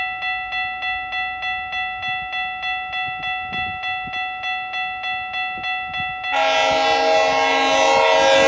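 A commuter passenger train led by a cab car horns at a walkway crossing in Newmarket, a loud sustained chord that pulses rhythmically, then the rushing roar of the cars passing close by.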